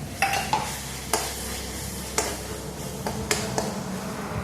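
Ground roasted coconut frying in hot oil in a pan for a spicy drumstick curry, soft steady sizzle with a few sharp spatula scrapes and taps as it is stirred, close and alone.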